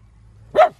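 A dog near an albino king cobra gives a single short, sharp bark, close and fairly loud, over a low background hum.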